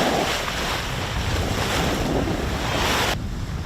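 Wind roars across the microphone while waves slap and wash around a sailboat on open water whitened by whitecaps, a dense, steady rush close up with no voices.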